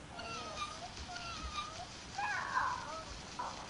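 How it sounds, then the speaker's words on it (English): A pet cat at home meows softly several times in a quiet room, fairly faint, with a slightly louder drawn-out meow near the middle. "Oh, you have a nice kitty."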